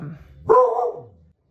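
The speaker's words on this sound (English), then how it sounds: "Is my dog just going crazy" A dog barks once, loud and close, a single sharp bark that rings briefly and fades, with low rumbling room noise before it.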